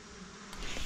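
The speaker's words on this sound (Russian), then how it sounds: "И очень много мух" Brief burst of flies swarming outdoors in hot weather ahead of a storm, a steady nearby buzz that swells louder toward the end, with no voices.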